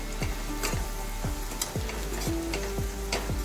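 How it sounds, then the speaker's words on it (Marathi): Homemade masala with asafoetida sautéing in a hot pan for a spicy oli ambadi fry: steady close sizzling with repeated spatula strokes scraping and stirring at a brisk rhythm, no voices. "आता एक दोन मिनिट परतून घेऊया"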